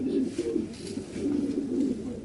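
Young pigeons, Fabry and Janssen breeds, coo softly in a loft, a low steady murmur of overlapping calls with no voices.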